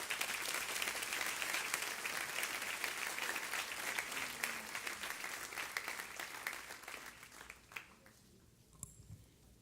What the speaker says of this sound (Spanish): vamos a recibir con un fuerte aplauso al Señor Jesús